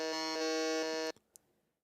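A quiz game buzzer in a Dungeons & Dragons trivia match sounds one loud, harsh electronic buzz lasting about a second, then cuts off abruptly, followed by a small click in near silence.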